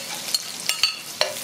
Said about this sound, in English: So you're gonna leave this to fry for about a minute and a half to 2 minutes